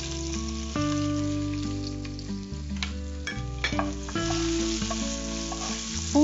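Steady sizzling and crackling of garlic frying in hot oil in a pan, close and continuous, with a few stirring clatters.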